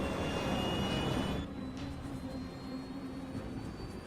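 An airplane climbing unusually steeply and stuttering in the air gives a loud, continuous engine roar. Partway through, the roar drops to a lower, steadier drone with a faint tonal hum.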